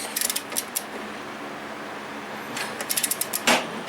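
A torque wrench clicks while tightening bolts on a Toro lawnmower: a quick run of sharp ratcheting clicks, a pause, then another burst that ends in one firmer click, close and fairly loud.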